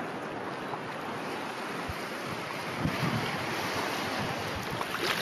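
Ocean surf at a beach on Koh Chang, Thailand, heard from waist deep in the water: a steady, loud wash of waves with wind buffeting the microphone and slightly bigger surges later on.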